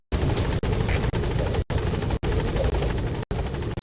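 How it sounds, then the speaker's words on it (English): Support helicopter in the video game Metal Gear Solid V: The Phantom Pain, a loud continuous rotor roar with pulsing blade chop, broken by several abrupt brief cutouts, with no speech. "Support helicopter has arrived."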